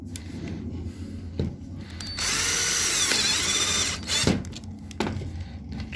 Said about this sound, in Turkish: Tutamaklara ikişer tane vida atılıyor arkadaşlar